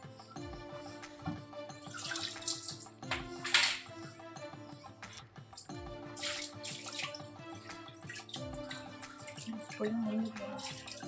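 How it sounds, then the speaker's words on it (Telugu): Water is poured out during kitchen chimney cleaning, coming in a few short splashing gushes and drips over a steady tonal hum in the background. "ఈ నీళ్ళు కూడా వంచేద్దాం"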